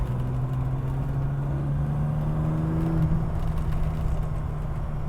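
Ferrari engine pulling hard on a country lane, a loud steady drone with a rising tone as it accelerates, heard from inside the car with no talk.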